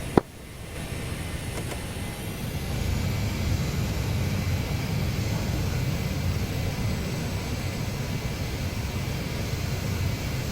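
Jet aircraft engine in DCS World on a runway at takeoff, a steady loud roar with a rising whine settling into a sustained broadband rush after a sharp click at the start.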